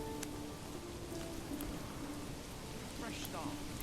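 Steady rain falls in the medieval city-building game Manor Lords, a continuous even hiss of rainfall filling the scene with faint soft tones mixed underneath.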